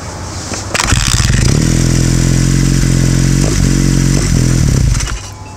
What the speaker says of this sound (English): And I did get the bike to run. I'll show you a quick clip of it running.